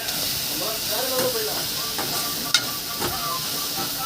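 Tomatoes added to a hot pan give off a steady, close hiss and sizzle that runs the whole time, with a few soft clinks and stirring noises over it.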